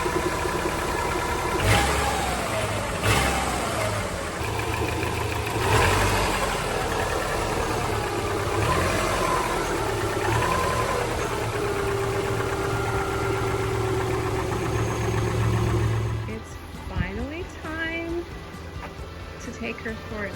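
A 2002 Subaru Forester fitted with a used engine idles steadily and fairly close, a continuous low hum with a few faint clicks, until it cuts off near the end and leaves quieter background sounds.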